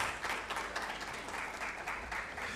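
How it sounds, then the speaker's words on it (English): An audience at an ATM innovation roadshow event in Accra, Ghana, applauding steadily, with a dense sustained clapping that continues without pause throughout. "Please give yourselves a round of applause,"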